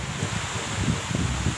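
Strong wind gusting around a bamboo-roofed nipa hut during heavy rain: steady, faint broadband rushing and rustling with soft low buffeting, no voices.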